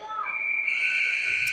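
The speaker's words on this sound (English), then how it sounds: "the whistle was for the net off" A referee's whistle at a 16U youth ice hockey game blows one long steady shrill blast, loud and fairly close above faint arena murmur.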